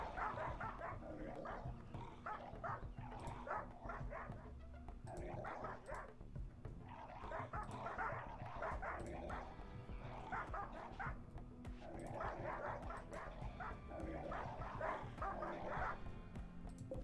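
Barking dogs in a video game, repeated bow-wow barks and yips in bursts over a steady game soundscape, fairly close and continuous throughout.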